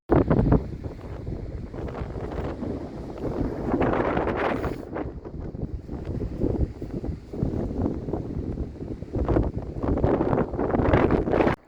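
Strong wind gusts across open, cold Oregon country, roaring and buffeting the microphone in uneven surges for the whole stretch with no voices.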